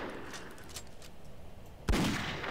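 A single heavy blast from a heavy arquebus in Skyrim with the Aethernautics mod, sharp and booming near the end after quiet ambient shuffling, with a short decaying tail.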